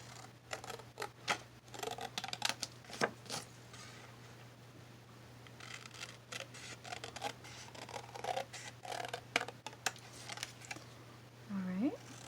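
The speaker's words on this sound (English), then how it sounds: "I'm going to cut around the edges of it a little bit" Scissors cut around the edges of a paper flower picture for a spring junk journal, a long series of close, crisp snips and paper rustles in uneven bursts, with a low steady hum underneath.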